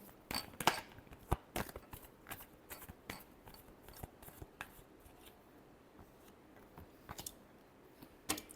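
Tarot cards are shuffled by hand in a quiet room, giving a series of crisp riffling and tapping bursts at irregular intervals.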